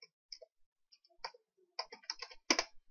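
Keys on a computer keyboard tapped in quick irregular bursts while a word is entered, close and clear against near silence, with a few louder clicks toward the end.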